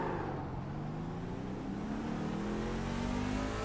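A racing truck's engine drones loud and close during qualifying at Daytona, its pitch climbing gradually as it pulls, with no talk over it.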